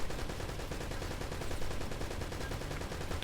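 Rapid bursts of gunfire from the video game Uncharted 1 Remastered, including a turret, run continuously and loudly with no talk, densely packed shots filling the whole stretch.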